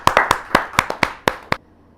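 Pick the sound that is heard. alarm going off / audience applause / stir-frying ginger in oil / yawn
audience applause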